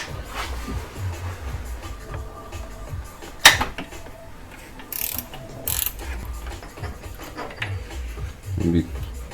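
Metal ratchet clicks rachet loose the timing belt tensioner on a Subaru WRX during a timing belt and water pump job, coming in short close bursts with a sharp knock midway and someone talking quietly between them.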